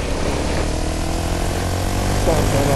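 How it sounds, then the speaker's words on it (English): Propeller airplane flying overhead, a loud steady engine drone filling the whole stretch, heard outdoors with people talking over it. "There's a plane right there."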